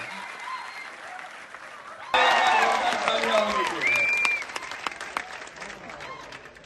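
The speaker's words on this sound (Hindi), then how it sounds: "एक बार जोरदार तालियां होनी चाहिए।" Student audience at a college gathering breaks into loud applause after a quiet stretch, a dense burst of clapping with some cheering that tapers off, under a speaking voice.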